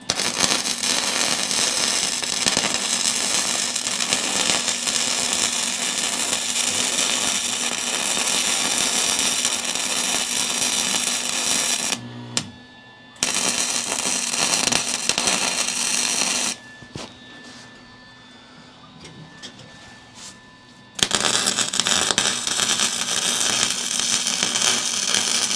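Flux-core welding outdoors on a Kubota project makes a steady, dense crackling sizzle in long continuous bursts, broken by short quiet pauses between welds, with no talking.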